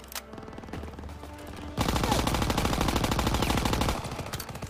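Gunfire from a weapon in Call of Duty WWII, with a dense, loud burst of rapid automatic shots that fires continuously for a couple of seconds, after lighter scattered shooting.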